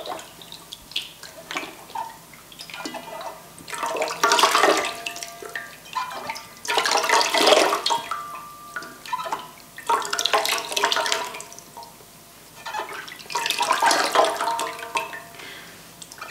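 Running water rinses a cleansing product off the skin of the hands, splashing in several loud bursts with quieter trickling and dripping between them.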